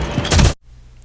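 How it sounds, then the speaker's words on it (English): An AM bomb from the game Art of Wargames hits the floor in a short, loud, dull thud-and-scrape lasting about half a second, then cuts to near silence. "and AM bomb sounds like this"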